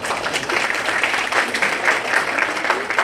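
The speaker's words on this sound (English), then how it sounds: "applause." Audience applause at an awards ceremony for a JLC and FBLA program, a dense, steady wash of clapping that holds loud and even for about three seconds with no pause.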